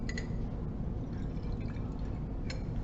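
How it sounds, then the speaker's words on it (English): Water poured into a glass lab flask to rinse it during a cyclohexanol oxidation experiment, a steady filling trickle with a few clinking drips, close and moderately loud with no talk. "to rinse out, we add 30 ml of Water."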